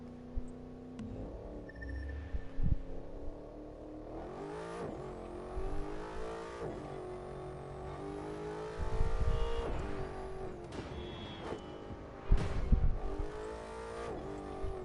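An in-game car engine in The Crew 2 revs and surges continuously, with rising and falling pitch sweeps, sharp throttle bursts around the middle and near the end, and occasional tire squeal.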